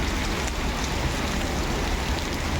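Steady rain from a sudden downpour in Nagpur pours down, a dense continuous hiss of drops with no voices, close and fairly loud throughout.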